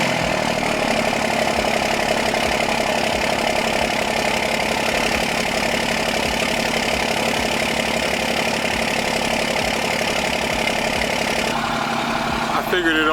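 A 3rd gen Mega Cab truck engine idles steadily on its first startup after sitting over a week, a loud, continuous close-up rumble with a knocking texture throughout.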